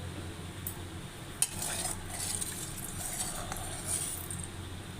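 Salted fish frying in a wok (kadai), with a low steady sizzle under scraping stirs and a few light metallic clinks of a utensil against the pan.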